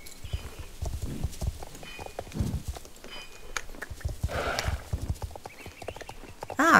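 Horse hooves clip-clopping at a steady walking rhythm while riding in the Star Stable Online game, close and moderately loud, with a brief higher sound near the end.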